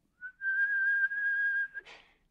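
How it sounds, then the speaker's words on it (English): A single sustained whistle holds one steady pitch for over a second and breaks off abruptly, clear and isolated against silence, used as answering whistles outside in an old ghost-story audio drama. "she heard the faint answering whistles outside"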